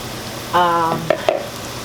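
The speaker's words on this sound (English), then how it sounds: "I'm going to sear them for about 7 minutes" Meatballs searing in a hot pan, a brief sizzling burst followed by a couple of short clatters, close and fairly loud.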